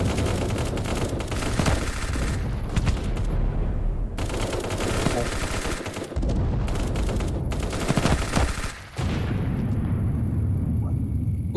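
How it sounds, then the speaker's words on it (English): A first-person shooter game fills the mix with dense, loud gunfire, bursts and explosive blasts. The shots come in long stretches, with short gaps between them, and there is no talk over them. "I'm gonna shoot the guy"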